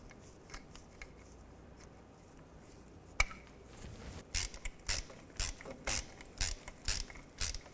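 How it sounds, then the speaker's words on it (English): Bolts are run in on the oil filter housing of a 2011-2015 Chevy Cruze, a quiet start followed by a rhythmic series of close ratcheting clicks and metallic creaks. "Take the bolts, get those started."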